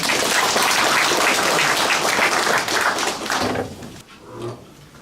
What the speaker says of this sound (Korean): 군수님을 다시 한번 힘찬 박수로 맞이해 주시기 바랍니다.